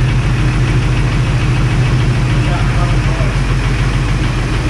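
Loud, uneven idle from a Jeep Wrangler TJ engine, a continuous close low rumble with a rough pulsing beat, and a person talking over it.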